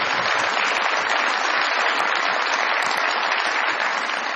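Dense, steady studio audience applause welcoming a political guest on a Pakistani comedy talk show, a continuous wall of clapping with no talk over it.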